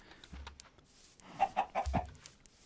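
Chickens in the Minecraft video game give a quick series of four or five soft, close clucks in a short burst, with a few quieter clucks before them.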